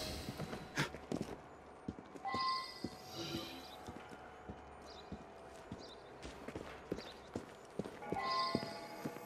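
Horse hooves clip-clop at a walking pace on a street in Assassin's Creed Syndicate, an irregular series of moderately close knocks under quiet ambient sound, with brief snorts and occasional voice-like bursts.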